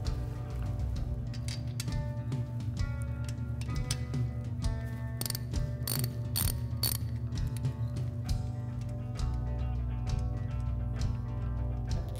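A ratchet socket wrench fitted with a spark plug socket works a motorcycle spark plug loose, its pawl clicking in quick, continuous runs up close over a steady low hum.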